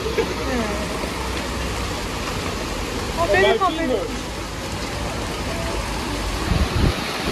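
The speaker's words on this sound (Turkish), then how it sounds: "Buz yağıyor ya." Steady dense pattering of hail falling across a surface in Mexico, with a brief squeaky sound midway and a few low thumps near the end.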